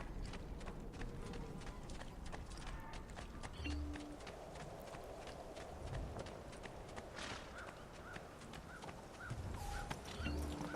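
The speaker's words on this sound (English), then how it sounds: "This is a nice horse, nice large horse, beautiful, grand, majestic horse." Horse hooves clip-clop at a steady walking rhythm in the video game Assassin's Creed 2, set in the Tuscan countryside, with repeated close hoofbeats over game ambience.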